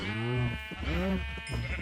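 Sheep in the video game Minecraft bleat close by, two or three wavering baas in quick succession with short breaks between.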